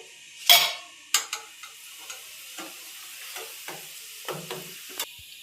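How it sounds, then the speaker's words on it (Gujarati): Rice flakes (poha) frying in hot oil for homemade mixed namkeen, with a loud opening hiss followed by scattered short crackles and light ticks of stirring, no voices. "આપણે ચોખાના પૌવા તળી લેશું."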